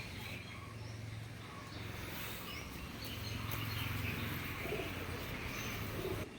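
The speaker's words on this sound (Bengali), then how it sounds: "সব পায়রাগুলো এদিক ওদিক ছড়িয়ে ছিটিয়ে রয়েছে" Pigeons perched in a tree give low, soft cooing calls at a distance, faint against a quiet outdoor background with light ambient noise.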